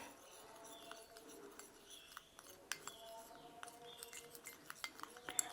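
Aloe vera gel and raw milk are stirred together in a bowl, with a spoon giving faint, irregular clinks and scrapes against the dish.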